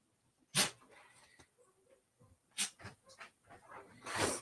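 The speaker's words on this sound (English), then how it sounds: "I thought puppy was stuck." A puppy makes brief, soft noises, a few short snorts or whimpers scattered through quiet surroundings, faint and close.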